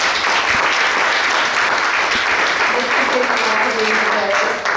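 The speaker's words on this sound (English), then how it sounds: "Let's give them a round of applause." Audience applause fills a panel session at a Small Business Week marketing event, a dense, steady wash of clapping lasting the whole stretch, with some voices mixed in.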